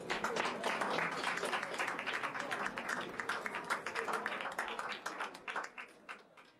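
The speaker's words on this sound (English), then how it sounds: "Je vous demande d'applaudir Lady Di Massina." Cabaret audience applauding a performer on stage, a dense burst of many hands clapping that carries on steadily, then thins out and fades toward the end.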